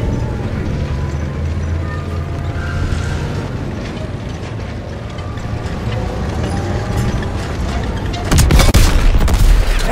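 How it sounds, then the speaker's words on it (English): In Call of Duty WW2 combat, an enemy tank is destroyed: mechanical clanking and rumbling battle noise builds, then a loud, close explosion bursts near the end. "Enemy armor destroyed!"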